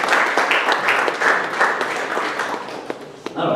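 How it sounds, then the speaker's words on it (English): A crowd at a fantasy football player draft in a sports club breaks into loud, dense, continuous applause with many overlapping claps that thins briefly near the end. "Let's give him a round of applause here"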